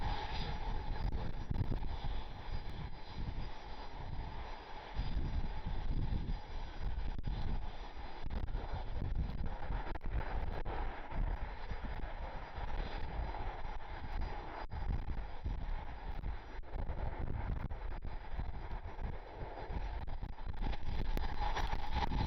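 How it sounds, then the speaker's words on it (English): Delta Connection Endeavor Air regional jet, flight 5164 inbound from JFK, arriving at Cleveland Hopkins airport, heard as a steady broadband engine roar that holds for over twenty seconds with wind buffeting the microphone outdoors. "Endeavor 5164, Delta Connection flight inbound from JFK."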